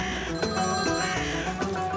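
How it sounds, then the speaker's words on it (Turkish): A telephone ringing in a Turkish village house, a steady tonal electronic ring with a repeating pulsed pattern, loud and close with no talk over it. "Telefon."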